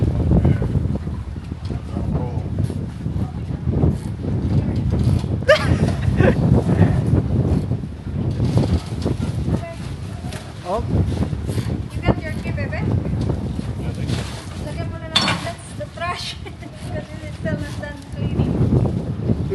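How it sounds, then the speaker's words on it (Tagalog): Strong gusting wind buffets the microphone aboard a houseboat, rumbling and rising in bursts beneath people talking throughout. "It's very windy today and keep shaking."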